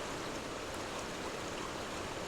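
Polecat Falls in Graysville, Tennessee pours as a steady, broad rush of water, a constant even roar with no breaks and no voices, heard from a little way off.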